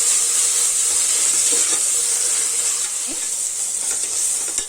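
Green chilies, mint and coriander sautéing in a pan for meal maker pulao, an even, close hiss of frying with a few light stirring knocks, no talking.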